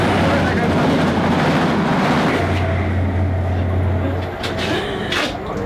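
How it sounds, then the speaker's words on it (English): A train passes through Pilning station where overhead wires are being installed, a loud sustained rumble with a steady low drone through the middle, fading slightly toward the end. "here goes a passing train"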